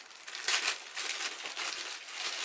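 Plastic breast milk storage bag handled close up, crinkling in bright, uneven bursts for a couple of seconds.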